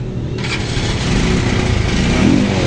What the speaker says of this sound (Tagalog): So ayan, namumugak siya, tapos mausok yung buga ng tambutso.